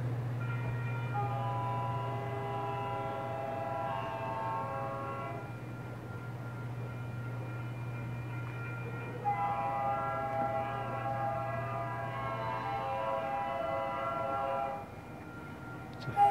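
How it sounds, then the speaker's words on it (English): A Santa Fe train passing in footage shown at a railroad museum, two long sustained horn blasts over a steady low rumble, heard faintly as if through a display speaker. "Video down there of a Santa Fe train passing by"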